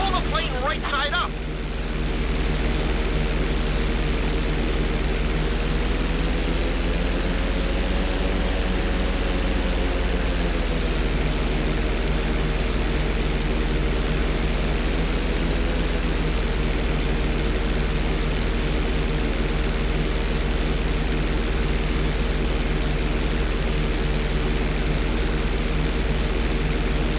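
Propeller airplane engine droning steadily in GTA 5 as the aircraft rolls and flies inverted, a loud continuous hum with slight pitch swells, over background game music.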